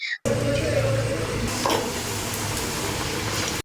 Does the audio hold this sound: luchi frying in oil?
yes